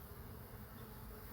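Honey bees buzz in a dense, continuous hum during a hive inspection, a close swarm drone with no talk.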